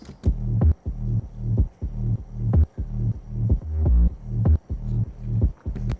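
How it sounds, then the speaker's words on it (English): A deep synth bass plays a repeating pulsing rhythm, short punchy notes in a steady looped pattern, alone and up front. "for the first part of the tune, it's just kind of this like nice little rhythm that sounds like this"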